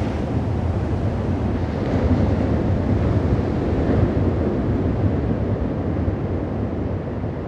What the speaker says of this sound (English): Waves are bigger today,